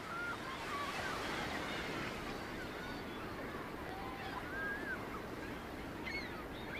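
Surf washes steadily onto a fine-sand beach sheltered from the north wind, a continuous broad roar of breaking waves with faint distant cries and whistles mixed in.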